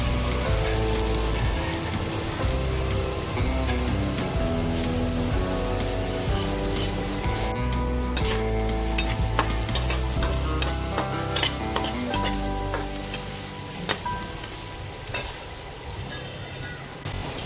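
Ingredients for cabbage and chana dal curry sizzle loudly in a pan, a dense, steady frying hiss with stirring clatter and sharp pops throughout, easing slightly near the end.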